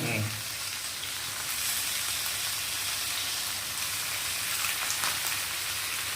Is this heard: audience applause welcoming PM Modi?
no